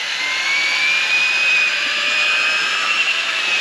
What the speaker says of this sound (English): And this drill is getting really hot.